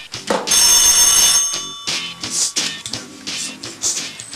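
A telephone bell rings loudly and close for about a second, then carries on in shorter bursts and fades as other room sounds take over, with no talking.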